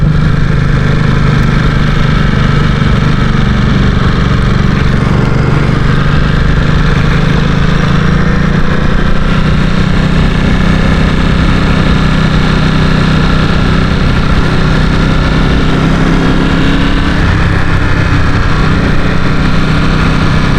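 A Ducati Supersport S motorcycle engine runs loudly and steadily up close for about twenty seconds, a continuous throbbing idle with no talk over it.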